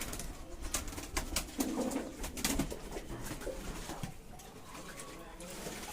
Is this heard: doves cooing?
yes